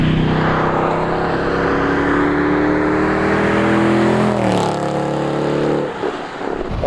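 A 525 hp Mercedes E63 AMG engine pulls hard under acceleration, a loud steady roar climbing in pitch, then shifting down and easing off near the end.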